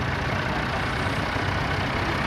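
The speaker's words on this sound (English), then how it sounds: "the fastest tractor in the group. It's an old 35, but it's got a souped up, definitely got a souped up gearbox" A souped-up old 35 tractor with an upgraded gearbox and engine, running as a steady loud low rumble, close and continuous with no talking.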